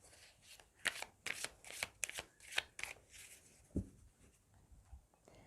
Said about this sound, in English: I'm going to shuffle the cards and pick some cards for you